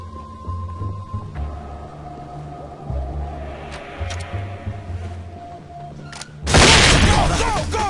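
A flashbang grenade detonates in the SWAT 4 game inside a restaurant level, a sudden loud blast with a bright ringing burst that follows low ambient hum and faint distant noises.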